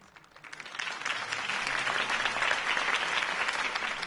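A crowd in Batman: The Telltale Series bursts into applause, quickly swelling from quiet to a dense, sustained clapping that fills the space.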